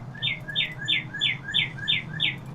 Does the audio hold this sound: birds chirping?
yes